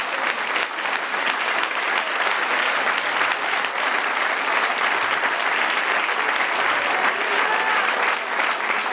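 A church congregation applauds steadily and loudly throughout, a dense unbroken wash of clapping with no pauses.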